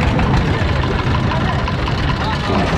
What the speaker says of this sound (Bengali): আমরা টলার ঘাট থেকে টলার ছেড়ে দিয়েছে অলরেডি